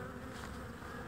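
Honey bees buzz in a steady, continuous drone at a beehive, the swarm sound close and even throughout with no talking.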